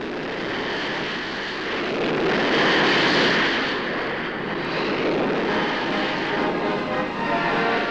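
A formation of display jets comes in to land together, a broad, loud roaring rush that swells to a peak midway and then holds as a sustained whoosh, with no voices over it.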